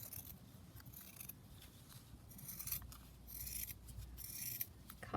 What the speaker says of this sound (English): cut my rough banner shapes there